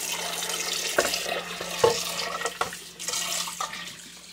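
Tap water runs steadily into a kitchen sink while a baking dish with stuck-on baked potato is scrubbed with baking soda, with a continuous splashing flow broken by knocks and clunks of the dish.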